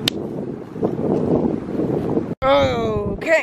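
Steady rumbling wind in drizzle buffets the microphone under a voice while hand-line fishing outdoors, then cuts out briefly before a higher, tonal sound rises over the continuing gusts.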